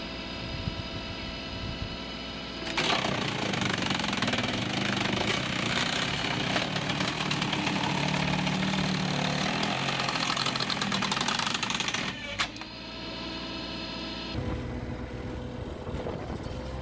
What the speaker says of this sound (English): the JBM 80-ton wood splitter is the perfect choice for those looking to maximize efficiency